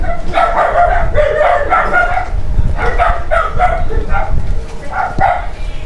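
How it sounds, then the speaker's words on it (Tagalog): A dog barks and yips repeatedly in short bursts, fairly loud and close, with small gaps between clusters of barks, in the video game Phasmophobia, at a lighthouse. "Ingay ng aso sa lighthouse ah."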